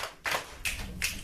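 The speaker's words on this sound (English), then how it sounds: "2 claps, 2 snaps, and a genius on 2." A classroom of students claps and snaps in rhythm, three crisp group bursts spaced evenly over about a second, fairly close and loud.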